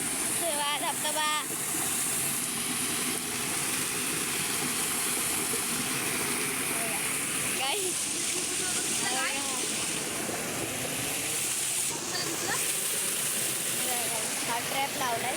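Water runs down a small homemade waterfall in a village stream, making a constant rushing wash. Children's voices talk over it close by.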